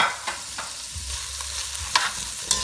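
Onions stirred into hot oil in a pan for Jamaican escovitch fish, giving a steady sizzle with a few sharp utensil clinks near the end, no voices.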